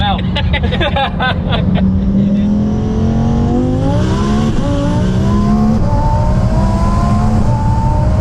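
A 1400 hp all-wheel-drive Lamborghini Huracan STO race car roars loudly and close, its engine note climbing steadily in pitch as it accelerates hard, with voices heard over the engine.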